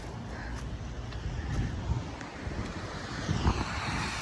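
Steady, rough wind blowing and buffeting, with low rumbling gusts that swell slightly louder toward the end; no voices.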